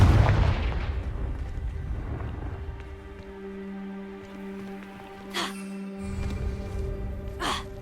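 A fire spell explosion in a Harry Potter video game, a loud booming blast with a rumbling tail at the start, followed by quieter game ambience and a couple of short whooshes.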